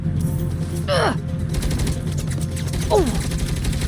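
Rapid turret fire rattles continuously in a Saints Row (2022) firefight, dense and close, with a couple of sharp whooshing effects and voices mixed in beneath the shooting.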